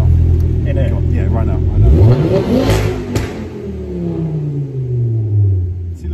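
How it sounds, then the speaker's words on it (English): A car engine revs hard and loud, pitch sweeping upward then settling into a deep rumbling idle before another throaty surge; close and powerful. "Can you give it a huge rev when you're in here, just to piss everyone off?"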